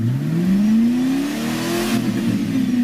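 A 1996 Ford Mustang's modular 2-valve engine, rated at 215 horsepower, revs up steadily, its pitch rising smoothly over a few seconds, loud and close with a continuous throaty drone.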